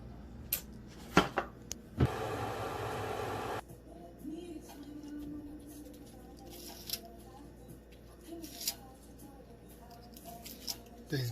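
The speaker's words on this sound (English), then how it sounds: "These green onions cut up." Green onions are cut up with a knife in a home kitchen: faint, scattered cutting clicks and taps, plus a short burst of rustling, all quiet and close.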